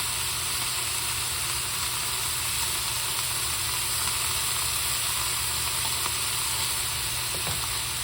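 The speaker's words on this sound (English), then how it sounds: "turn onto the pan so that it can get seared" Beef pieces searing in a pan for curry, a loud continuous hiss and sizzle with an underlying low hum, steady throughout and heard alone.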